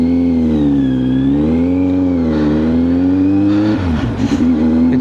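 A Kawasaki Z900 motorcycle engine runs loud and close with no talk, its deep steady roar swelling and easing through rev changes before a rougher burst near the end.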